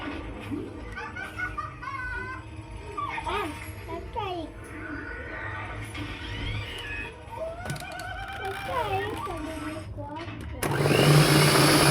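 Electric mixer beating cake batter after milk and cooking oil are added, for an ugali cake baked on a jiko; the steady, loud whir kicks in near the end, following a stretch of children chattering and laughing.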